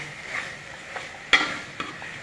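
Crab masala with chicken masala being sautéed in a pan, a soft continuous frying hiss broken by a few sharp stirring scrapes and clicks, close and fairly quiet with no talking.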